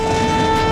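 A train horn sounds as a steady, loud, continuous tone over the rumble of a moving train, close and unbroken for the whole moment.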